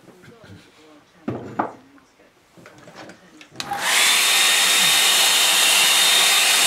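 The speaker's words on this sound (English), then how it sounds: "leave it to dry or use a hairdryer" A hairdryer blasts steadily after a few seconds of quiet handling sounds, drying watercolour paint outdoors by a salt marsh; the airflow is loud, close and continuous to the end.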